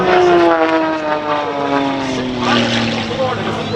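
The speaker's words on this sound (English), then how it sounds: "diving in high and overhead from over 800 feet above the ground to begin this gyroscopic power aerobatic performance" An Extra 300S aerobatic propeller airplane dives from high overhead at the 2024 Lake Cumberland air show, its loud, steady engine drone sliding gradually lower in pitch as it passes.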